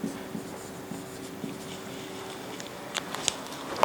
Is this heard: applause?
no